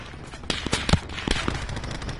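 Micro SMG fire in Call of Duty Blackout crackles in rapid bursts and scattered shots over two seconds, mid-distance and fairly loud, with no talk over it.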